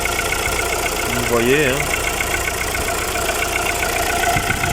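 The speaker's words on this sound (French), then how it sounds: "le moteur il tourne nickel, il tourne rond" A VW Polo 1.4 MPI petrol engine idles smoothly and evenly, a constant close rumble with no breaks, while someone speaks briefly over it.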